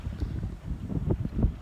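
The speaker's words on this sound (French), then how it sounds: "Le vent est rentré" Wind buffeting the microphone aboard a sailboat at sea, a steady low rumbling roar with gusty swells, close and fairly loud, with no voices.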